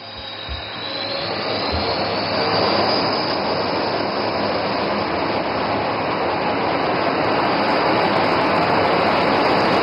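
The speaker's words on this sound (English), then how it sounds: "notice the aircraft is now opening full power" A fighter jet's engine spools up to full power on a road airstrip, a loud, broad roar that swells over the first seconds and then holds as a sustained, close jet howl with a high whine on top.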